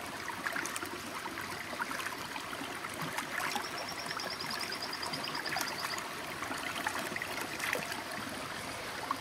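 A creek with rapids at Córrego do Bom Jesus rushes steadily, giving a continuous broad hiss of flowing water with small gurgles, fairly faint and unbroken.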